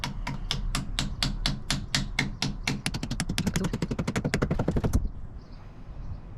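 A hammer taps repeatedly while a grab rail is installed, starting as evenly spaced strikes that quicken into a rapid run of close, sharp taps before stopping abruptly.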